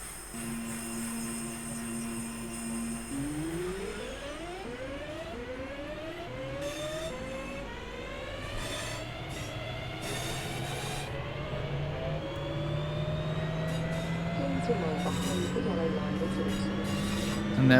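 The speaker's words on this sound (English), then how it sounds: "get you a sound of these electric motors" Class 323 electric train on the Birmingham Cross City Line out of Redditch, its traction motors whining through a series of rising pitches as it accelerates, steady and close over carriage rumble, with no speech.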